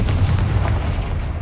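A Confringo spell blast in Hogwarts Legacy erupts as a dense, booming burst with a rumbling low body that holds briefly before fading.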